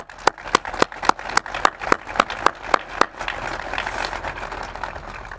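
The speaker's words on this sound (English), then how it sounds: "could we just have one more round of applause for them?" An audience at a GE Aviation ribbon-cutting ceremony claps in a sharp, evenly spaced rhythm of about a dozen loud claps, which dissolves into a softer, scattered patter of applause.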